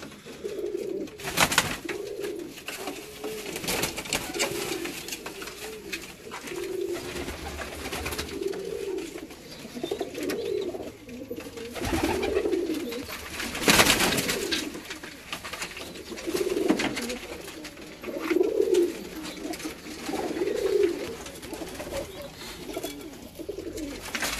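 Champion Sherdil-breed pigeons coo in repeated soft, rolling phrases close by, the calls recurring steadily for over twenty seconds against low background noise and occasional bursts of rustling or handling.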